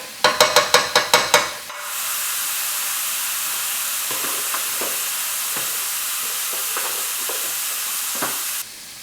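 King prawns hit hot oil in a pan, preceded by a quick burst of sharp clicks, then a loud, steady sizzle and hiss continues with occasional faint stirring taps, no voice.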